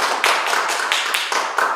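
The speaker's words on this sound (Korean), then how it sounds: "다시 한번 그 박수 부탁드리겠습니다." Audience clapping at a forum, a short burst of fairly close, brisk applause with distinct individual claps in an uneven rhythm.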